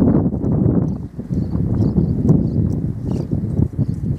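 Steady hoofbeats from a dun roan Quarter Horse trained for rural cattle work in the Buenos Aires countryside, walking in an even rhythm with wind rumbling across the microphone.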